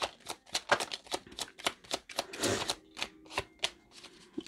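Tarot cards shuffled by hand at close range: a rapid series of crisp riffling snaps and flutters in uneven bursts, with a denser run of shuffling in the middle and no talking.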